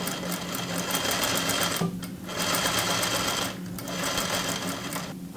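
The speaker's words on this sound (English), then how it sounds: "Let's sew the side front pieces to the center front pieces. Right sides together, and then we'll be sewing this side." A sewing machine stitches side front to center front dress pieces, a steady fast whirring drone with two brief pauses between runs, close and loud with no talk.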